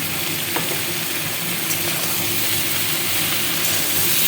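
Bori lentil dumplings frying in a pan of hot oil and spices for an Indian potato curry, giving a steady, even sizzle with no talking.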